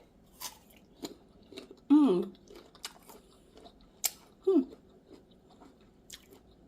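Someone bites and chews fresh, washed pineapple up close, with a few distinct crunchy bites and wet chewing sounds between quiet pauses.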